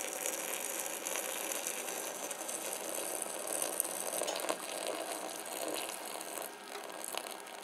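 The lid of a thermos filled with hot water is screwed on, producing a quiet run of clicking, ratcheting scrapes close to the listener.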